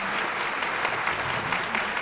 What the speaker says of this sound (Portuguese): Uma salva de palmas para esse testemunho real que você acompanha aqui.